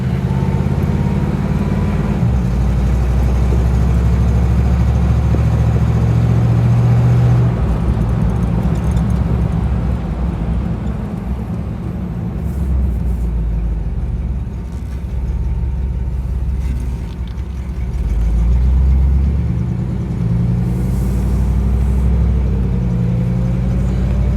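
A 1960 Cadillac Eldorado V8 on a test drive, its low engine rumble and road noise droning steadily from inside the car, swelling and easing with the throttle.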